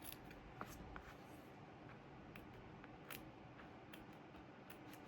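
Scissors trim excess fabric from a flat-fold cross-stitch mounting, producing faint, close snipping cuts scattered irregularly over a low background hiss, with no talking.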